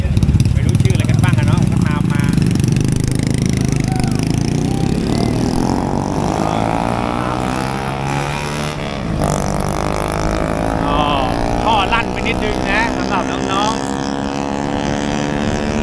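A motorcycle rides along a rural road toward the Fai Luang weir in Laplae, Thailand, its engine a steady close droning hum that eases slightly partway through, with someone talking over it.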